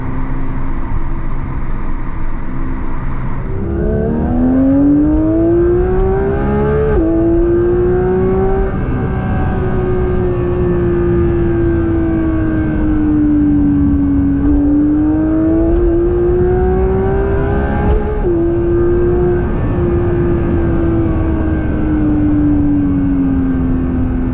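A Porsche 911 GT3 (992) engine revs hard at high RPM, loud and close, its pitch climbing and dipping through several gear changes with no talking.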